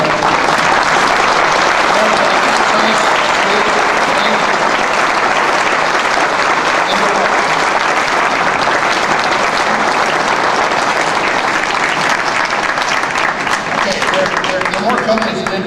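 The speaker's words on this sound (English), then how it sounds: "I'd like to give them a round of applause" Sustained, loud applause from a large audience honoring students at a ceremony, a dense continuous roar of many hands clapping with a faint crowd murmur underneath.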